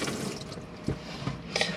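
Hot water running from the tap in an Adria Twin Supreme 640SGX caravan kitchen, a steady close splashing hiss into the sink with a few brief gurgles and spatters.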